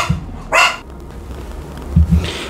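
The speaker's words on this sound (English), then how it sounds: "dogs, when they hear the mailman or anybody, they go completely bonkers" Dogs at home go off at the mailman with a sharp, loud bark followed by a couple of lower, closer woofs, close by and with no talking.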